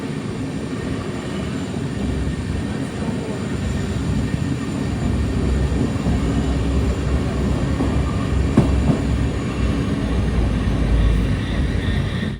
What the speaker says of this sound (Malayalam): 8:44 ട്രെയിൻ ഇതാ കാസർഗോഡ് റെയിൽവേ സ്റ്റേഷനിലേക്ക് എത്തിയിരിക്കുകയാണ്.